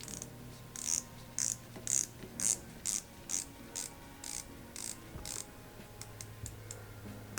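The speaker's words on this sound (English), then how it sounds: "So let's do bezel action very quickly." A Phoibus Proteus 300m automatic dive watch bezel being turned, giving a quick, even series of about a dozen soft, close ratcheting clicks, fairly quiet against a faint background hum.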